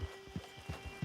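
Horse hooves clip-clopping in Red Dead Online, a steady walking rhythm of soft thuds, close and quiet, about five or six strikes.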